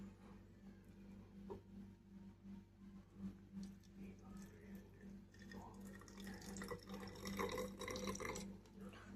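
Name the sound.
cooled rosemary water poured into a bottle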